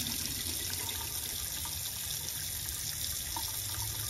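Water runs steadily from an Airstream Basecamp 20X RV faucet, flushing through the water heater lines, a continuous close rushing hiss with no break from start to finish.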